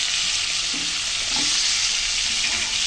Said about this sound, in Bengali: আলু দিয়ে মাছের সাথে ভালো করে ভেজে নেব